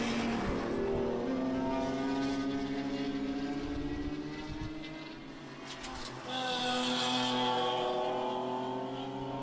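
Pro 3 race cars roar past side by side at a road-course grand prix in Airway Heights, engines loud and sustained with rising and falling pitch as they pass close by, then fade briefly before surging back.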